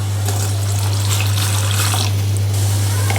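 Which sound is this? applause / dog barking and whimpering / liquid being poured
liquid being poured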